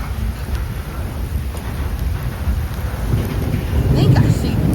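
Heavy pouring rain falls steadily during a thunderstorm beside a railroad line, a dense broadband hiss with a low rumble beneath it that swells slightly toward the end.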